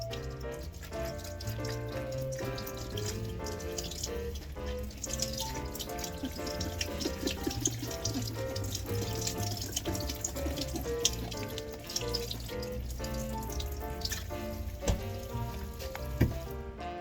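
Water runs from a sink tap in an RV kitchen while food is rinsed, a continuous splashing flow with small clatters of dishes and handling over it.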